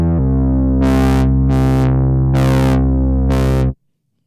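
A 2022 Minimoog synthesizer with faulty aftertouch holds a loud, buzzy tone whose brightness jumps in four abrupt stepped surges instead of sweeping smoothly, then cuts off sharply.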